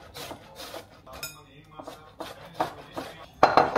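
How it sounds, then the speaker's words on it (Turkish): Tomatoes being grated by hand on a kitchen grater, a series of close, wet rasping strokes in irregular rhythm with a few louder scrapes near the end. "Şimdi domatesleri yapacağım ve galiba rendeleyerek yapacağım."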